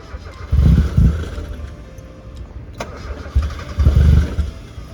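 An LS-swapped Mazda Miata cranks and fires with deep, heavy bursts, then settles briefly before another loud, close rumble of cranking and catching.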